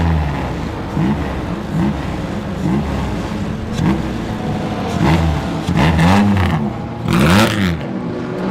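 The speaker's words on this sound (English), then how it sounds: "I just wanted to listen to the engine notes as that Bentley gets going again. 1927." 1927 Bentley racing car engine pulling away at a historic race meeting, a loud, close mechanical note rising and falling through repeated gear changes and revs, with one sharp surge near the end.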